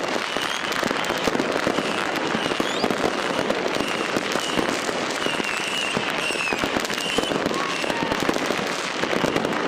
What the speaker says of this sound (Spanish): siento que este año la cantidad de fuegos artificiales ha disminuido